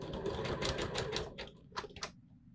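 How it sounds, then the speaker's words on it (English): A sewing machine running a zigzag stitch along elastic, a close, fast mechanical chatter in short bursts that slows and stops near the end. "I'm going to zigzag it right along the top edge"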